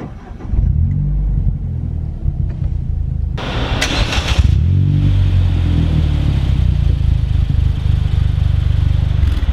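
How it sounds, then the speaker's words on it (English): Car fitted with a Scorpion exhaust starts and revs nearby: quiet idle, a sharp start, a loud rising rev, then a steady throaty engine drone that holds to the end. "we're gonna do some starts, some revs, and just give you all some lovely sounds of my exhaust."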